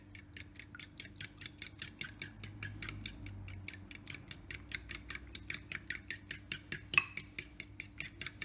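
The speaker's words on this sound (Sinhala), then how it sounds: "ඉන්පසු හොඳින් ගසා ගන්න." Eggs seasoned with pepper are beaten briskly in a bowl, a fast, even run of light clicking strokes close by, with no talking over it.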